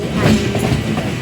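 A train rolls past with a steady rumbling clatter of wheels on track, loud and close, while a voice speaks briefly over it.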